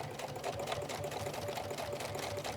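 A sewing machine runs steadily on a regular straight stitch through vinyl, a continuous close whirring hum with no pause.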